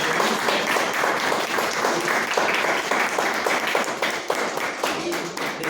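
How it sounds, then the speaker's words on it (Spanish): Audience applause at a book presentation, a steady dense round of clapping from a seated crowd that stays loud and even throughout, with a little murmur of voices underneath. "pido un fuerte aplauso para todos"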